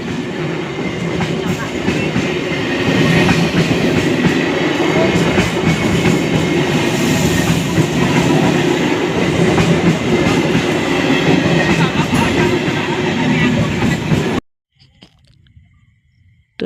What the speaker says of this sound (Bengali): এখন ট্রেন চলে গেছে